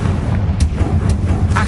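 Confringo fire spell blasts in Hogwarts Legacy, fired in quick succession: three short, rumbling bursts over a constant low background roar, each about half a second apart and fairly loud.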